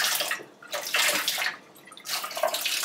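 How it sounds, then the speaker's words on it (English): Water splashes and pours off freshly rinsed harvested lettuce in uneven bursts, pausing briefly between pours, close by and fairly soft. "you're going to want to just pour the water off"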